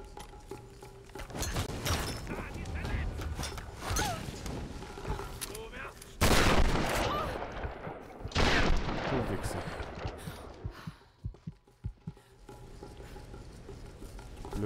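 Loud shotgun blasts from the game Tomb Raider, two heavy booms standing out amid a busy mix of gunfire and game noise.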